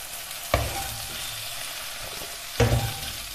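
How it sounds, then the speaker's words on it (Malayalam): Okra sautéing in a pan, a steady soft sizzle with two louder stirring scrapes of a utensil, close and alone without talk. "ഒരു 2 മിനിറ്റ് വഴറ്റിയെടുക്കാം"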